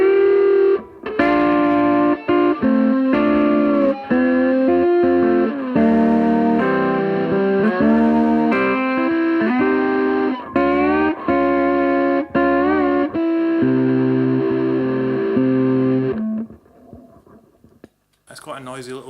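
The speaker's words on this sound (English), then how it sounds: "it sounds great on steel guitar. I have it set quite dark with lots of dry and not a whole lot of fuzz coming through" Steel guitar played through a fuzz pedal set dark, with lots of dry signal and only a little fuzz blended in, sounding sustained chords and sliding notes up close with no talk, before trailing off into faint hiss and a brief noise at the end.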